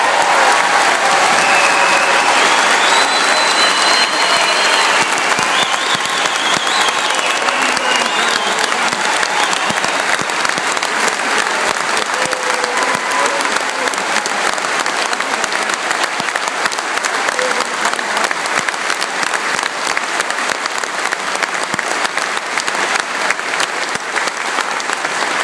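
Crowd applause at an outdoor frontline protest in Tallaght, a loud continuous roar of clapping sustained for the whole stretch without letup.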